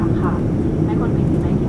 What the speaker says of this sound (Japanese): 飛行機はですね最終の着陸態勢に入りました。